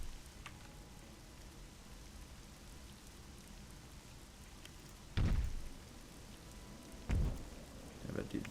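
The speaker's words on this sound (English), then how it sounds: "comes the rain." Steady rain in RollerCoaster Tycoon 3 hisses evenly throughout, with two loud low thunder-like rumbles near the end; no voices are heard.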